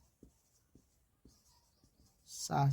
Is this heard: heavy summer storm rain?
no